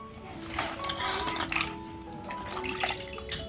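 Crabs being rinsed in clean water in a kitchen for an Agri-style crab curry, with splashing and trickling water and light clatter of a vessel, close and fairly steady.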